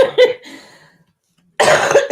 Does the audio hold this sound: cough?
yes